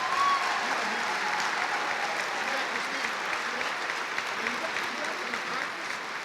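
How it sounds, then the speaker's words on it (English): Steady applause from an audience at an evening recognition event for school volunteer winners, a dense wash of clapping at moderate level that holds evenly throughout, with some voices mixed in. "So how about one more round of applause for all of tonight's volunteer winners."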